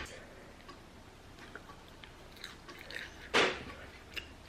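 Quiet, close chewing of crunchy eggs with scattered soft crunches and one sharper crunching bite near the end, otherwise fairly still.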